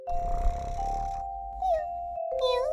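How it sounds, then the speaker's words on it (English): A cat gives two short, close meows after a steadier opening stretch; no purring stands out clearly. "A cat is a small furry animal with whiskers that usually lives in your house. They purr when they're happy"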